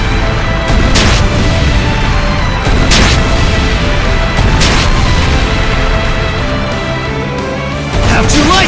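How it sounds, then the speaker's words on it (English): Ship cannons firing during a naval battle in the action RPG Ys X: Nordics, with loud broadband booms at regular intervals over a dense, continuous roar of battle music and effects, mixed with voices. "Fire the cannons!"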